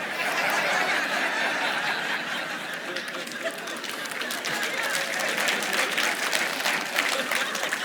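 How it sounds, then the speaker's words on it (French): A theatre crowd at a stand-up comedy show claps steadily for several seconds, a thick continuous patter mixed with scattered laughter and murmuring throughout. "je ne sais pas pourquoi vous applaudissez"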